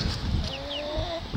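A few soft chicken clucks and warbling calls over a low rumbling background, fairly close but not loud.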